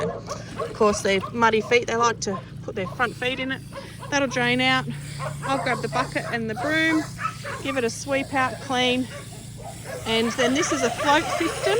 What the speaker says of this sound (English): you can hear the dogs in the background